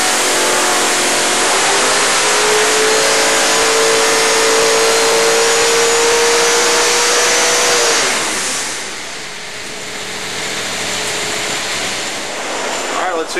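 On a dyno horsepower run, an engine making 845 horsepower on a 250-horsepower shot roars loud and sustained at high revs for about eight seconds, then drops away to a lower, rougher idle-like drone.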